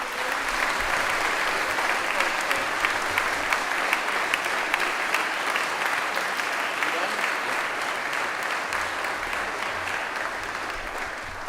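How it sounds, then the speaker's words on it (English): A school chapel gathering gives a dense, steady round of applause for a rower who placed second in a senior men's lightweight single race, the clapping sustained and even throughout. "let's have one more nice round of applause for Ben"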